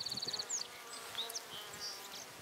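Honey bees buzz softly at close range in a hive, several droning tones drifting up and down in pitch against a quiet background.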